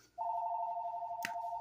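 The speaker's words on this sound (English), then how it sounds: "Phone's ringing." A telephone rings close by with a steady, continuous electronic tone that starts abruptly and holds for well over a second, broken briefly by a short click or knock near the end.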